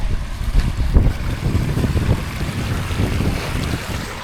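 Outdoor noise while crossing a river on foot, with a steady low rumble and broadband wash of flowing water and wind noise throughout, close and continuous, with no talking.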